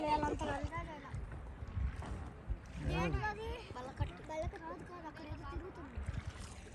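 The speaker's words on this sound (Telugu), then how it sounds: "ఎక్కడ గాలి సౌండ్ గట్టిగా వస్తుంది." Strong wind rushes and buffets the microphone aboard a pontoon ferry crossing the Krishna River at Morjampadu, with a steady boat and water rumble underneath and people talking close by throughout.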